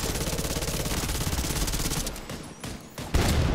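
Rapid automatic gunfire aimed at armored tanks in The Division 2: Warlords of New York. A loud, sustained burst of shots runs for about two seconds, then breaks into shorter, sharper volleys with brief gaps between them.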